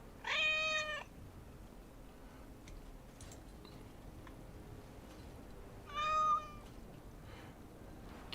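A cat meows twice in Dragon Age: Origins – Awakening, one clear meow at the start and another about six seconds later, fairly quiet over a low, steady background hum.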